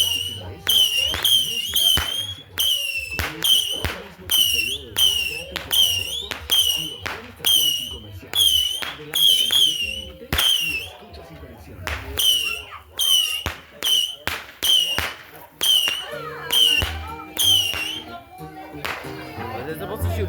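Fireworks lit and shot off outdoors at a New Year's celebration, a rapid run of sharp crackling bursts and whistling launches repeating for the whole stretch, with people talking and reacting in the background.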